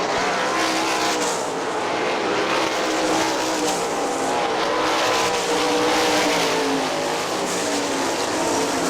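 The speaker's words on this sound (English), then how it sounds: "Dustin Daggett getting by Fred Bliss down the back straightaway" Sprint cars racing on the dirt oval at Hartford Speedway Park, engines roaring loud and continuous as the pack passes down the back straightaway, a dense wall of high-revving engine noise with no voices.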